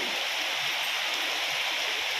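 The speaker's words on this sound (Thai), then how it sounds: "ฝนตก" Steady, dense hiss of rain falling outdoors, continuous and even with no distinct drops standing out and no voices.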